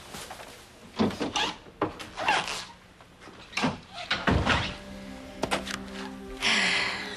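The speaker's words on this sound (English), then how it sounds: "Close the door." An indoor door swings shut with a few thuds and knocks, ending in a sharp close followed by quiet room tone, with no talk over it.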